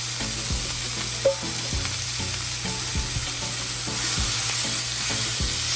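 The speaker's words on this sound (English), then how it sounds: "right about now I'm just sauteing these ingredients, and once they become caramelized, then I'll add my steak right after" Ingredients for a cheese steak empanada filling sauté in a hot pan with a steady, close sizzle, punctuated by regular soft knocks and scrapes of stirring throughout, over a faint constant hum.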